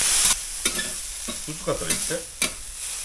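Bean sprouts stir-fried in a pan give a soft sizzle with a few scraping clacks of the utensil, close by, while a person speaks briefly over it.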